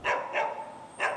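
An Alaskan Malamute puppy gives three sharp, close barks, two in quick succession and a third after a short pause, with nothing else heard in between.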